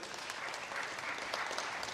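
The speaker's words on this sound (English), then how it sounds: "Give him a round of applause, please." Audience applause greets the technology lead at a sponsor launch event at the State Library of Victoria, dense and continuous but fairly quiet and distant, with no break in the clapping.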